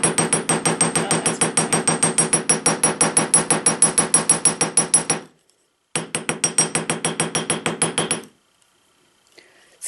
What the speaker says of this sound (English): you could also hammer it a little bit harder once it's through the clamshell